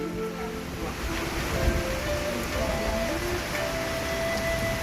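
Steady rain hisses over a broad wash of water noise, continuous and fairly loud, with no voices.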